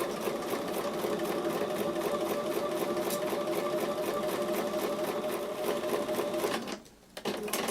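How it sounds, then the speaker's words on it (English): A sewing machine sews a quilt block seam at a quarter inch, running steadily and close by, its rapid mechanical stitching filling nearly the whole stretch before a brief pause and restart near the end. "I'm going to go back to the sewing machine and sew with a 1/4 inch seam"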